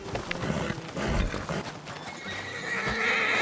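A horse neighs loudly and close by in Red Dead Redemption 2, a rough whinny mixed with hoof clatter and shuffling, with no talking.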